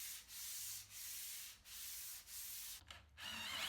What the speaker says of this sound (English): finished them off by hand sanding with the grain to get rid of any swirl marks